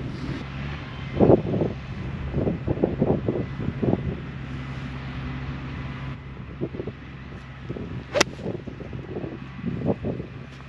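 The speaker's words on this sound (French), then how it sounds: "J'espère que vous m'entendez malgré le vent et malgré le masque." Gusty wind buffets the microphone outdoors on a golf course, a steady low rumble rising and falling through a few louder bursts, with one sharp click near the end and no speech.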